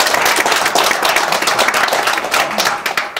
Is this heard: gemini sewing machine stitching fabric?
no